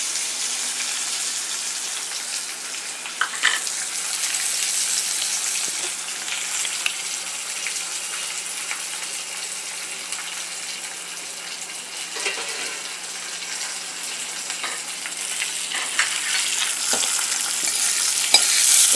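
Curry leaves and dry ginger powder fry in a pan with a continuous bright hiss and crackle, close and steady, with a few soft clicks scattered through.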